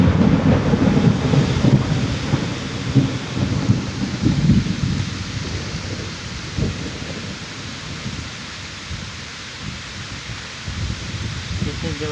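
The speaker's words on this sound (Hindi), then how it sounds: "इतनी ज़बरदस्त तरीके से बारिश हो रही है, इतनी तेज़ हवा के साथ।" Heavy monsoon rain pours down with strong gusting wind, a dense roaring wash with low rumbling surges like distant thunder, loud and continuous, easing slightly toward the end.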